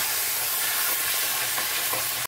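Curry leaves fry in hot oil for a doi dhokla tempering, giving a loud, dense, continuous sizzle up close. It cuts off abruptly at the very end.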